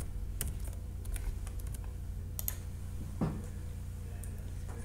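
Light, irregular clicks of typing on a computer keyboard sound close by as login details are entered, sparse keystrokes over a low steady background hum.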